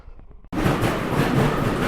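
A train on a railway line in the Carpathian forest, arriving with an abrupt loud onset of rumbling, clattering wheel noise that continues steadily up close after a few faint knocks.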